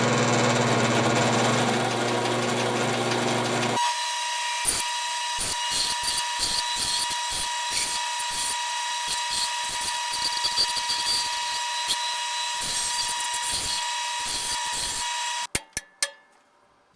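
Bandsaw fitted with homemade replacement blade guides, first a low motor drone, then a bright high-pitched running whine with intermittent ticks and clatter, close and loud, ending in a few sharp clicks and stopping.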